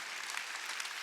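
A short, steady patter of applause from a church congregation at a Sunday service, fairly faint and without voices.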